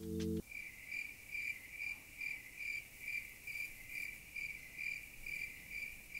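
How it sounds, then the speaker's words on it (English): Crickets chirp in a steady, evenly spaced rhythm, a thin high trill pulsing about twice a second against a quiet night background. "Crickets."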